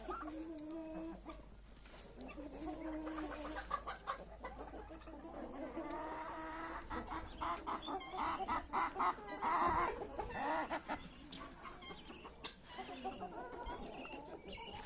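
Crested backyard hens and a big turkey-sized rooster cluck and murmur in a farmyard, a steady low chatter with scattered sharper calls, fairly faint and distant over background hum.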